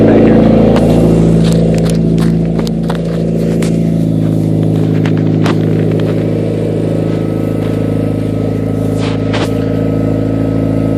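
A Mitsubishi Evo idles and creeps in reverse, its engine a steady loud low drone with a constant hum, while several sharp knocks and clicks break in near the microphone.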